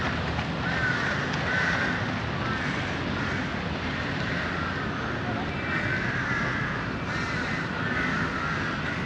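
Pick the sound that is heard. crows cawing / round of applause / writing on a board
crows cawing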